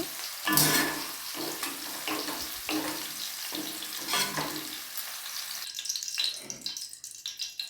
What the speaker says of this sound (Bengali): ক্যাপসিকামটা আগে তেলে দিয়ে হালকা ফ্রাই করে নেব।